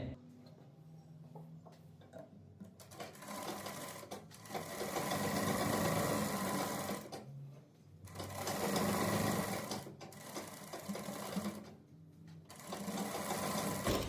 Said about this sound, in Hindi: जिस तरीके से हमने डाउन लगाया था उसी तरीके से हमको सिलाई भी चलानी है।